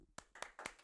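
A handful of sharp hand claps, about four in under a second, crisp and close, at a press event held by the head of Indonesia's state railway company KAI.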